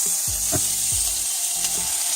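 Beef searing in a hot pan for a slow-cooked beef dish: a steady, bright sizzle throughout, with a few soft low thumps as the meat shifts. No talking.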